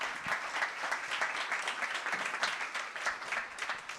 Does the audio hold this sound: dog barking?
no